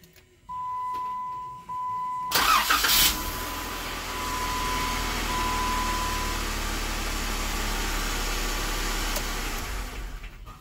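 A 2016 Jeep Wrangler 3.6L engine cranks briefly and catches after a crank position sensor replacement, then settles into a steady, even idle close by, preceded by a faint electronic tone.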